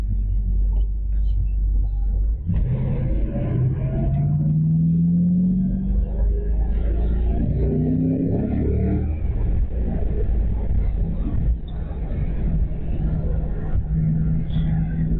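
A car being driven on the road, with a steady low engine rumble and road noise heard from inside the cabin throughout, and a few faint tonal shifts as it moves along.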